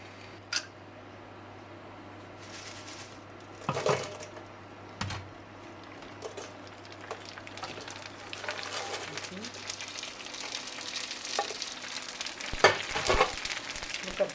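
Puris deep-fry in oil at 180 degrees for homemade pani puri, a low bubbling sizzle with sporadic clicks and knocks that grows busier and more crackly toward the end, close by, with a low steady hum early on.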